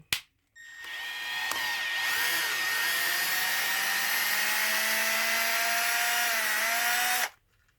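A power drill drives screws into the protective skid plates of a Losi DBXL-E RC truck. Its loud, steady motor whine runs for several seconds with slight pitch shifts, then cuts off abruptly, with no voices.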